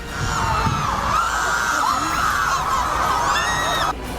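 Crowd of Iranian protesters on the streets of Los Angeles, a dense, steady wash of many voices with shouts and whoops rising above it, continuous and loud until it cuts off abruptly near the end.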